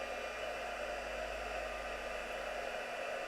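Electric heat tool blowing hot air onto embossing powder on a handmade card, a steady, even whooshing hiss that holds unchanged throughout, with no talk.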